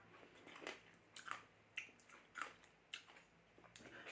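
Someone bites and chews sweet-sour pomegranate seeds with crunchy kernels, giving close, wet crunches in a steady rhythm of roughly two per second with no talking.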